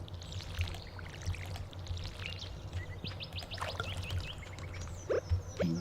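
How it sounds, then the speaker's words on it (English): A watering can pours over freshly placed trellis crops in the Stardew Valley farming game, a soft splashing wash layered with small chirpy game effects and a faint steady backdrop. "we're going to water all those trellises that we just put down"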